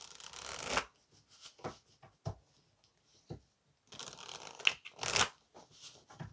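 An oracle card deck is shuffled in short, quiet riffling bursts of card noise spaced out by pauses, with one louder flurry near the end.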